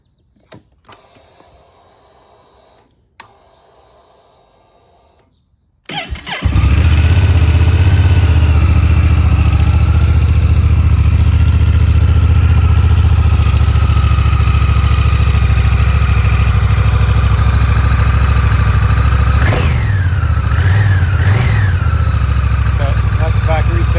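After a quiet stretch, a Rebel 1100 motorcycle engine with its stock exhaust fires up and idles steadily, with a couple of quick throttle blips near the end.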